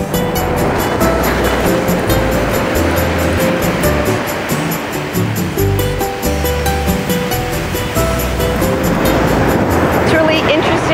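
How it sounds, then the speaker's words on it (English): Loud ocean surf pounds a Maui beach in a continuous roar of breaking waves, with spoken voices running underneath throughout. "the sound of the waves is so much louder"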